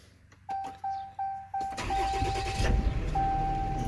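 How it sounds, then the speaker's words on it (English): Gen 4 Ram truck engine starting: a few evenly spaced starter chimes, then the engine cranks and catches into a loud, steady idle rumble, close by, with no talk. "we'll let the truck start."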